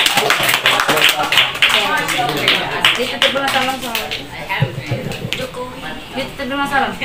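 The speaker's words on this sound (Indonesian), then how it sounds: "Tepuk tangan dong untuk capres nomor 3" Clapping for a presidential candidate at a school mock election, rhythmic hand claps mixed with children's voices, loud and close, with talking continuing over the clapping.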